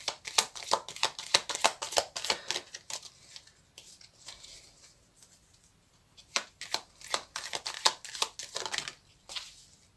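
Romance Angels oracle cards are shuffled by hand in quick, crisp riffling flurries of papery slaps, pausing briefly midway before another run of shuffles.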